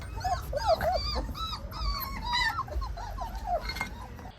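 Dogs whimper and yip close by in a rapid series of high, wavering whines over a low background rumble.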